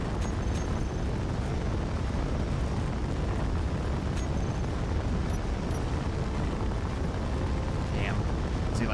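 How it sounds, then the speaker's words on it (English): Big cannons fire during a Space Engineers space battle between a battleship, a carrier and Reaper ships, heard as a dense, continuous rumbling roar with scattered sharper bursts, loud and close throughout. "Oh, big cannons firing my way."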